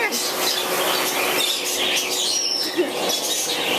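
Pet bird chirping and fluttering indoors, with busy high chirps and tweets plus brief soft wingbeats, close and fairly loud with no clear talk.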